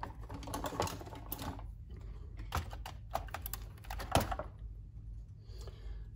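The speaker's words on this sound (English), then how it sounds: "Let me just remove all the keys" Keys being pried off a Casio FP-1000 computer keyboard, a string of sharp plastic clicks and snaps at uneven intervals, close and fairly quiet, with one louder pop near the end and no talking.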